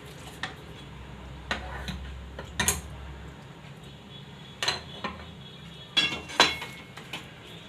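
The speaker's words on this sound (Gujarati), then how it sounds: "હવે આને આપણે હલાવતું રહેવાનું છે" Moong dal halwa with saffron milk being stirred in a pan, heard as scattered light metallic clinks and scrapes of a spoon against the pan, a few sharp knocks over a quiet background.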